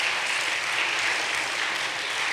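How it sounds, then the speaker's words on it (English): Sixth-grade students at a Christian school morning assembly receive a round of applause: steady, even clapping from a room of people, moderately loud and continuous throughout, with no voices over it. "Let's give them all a round of applause."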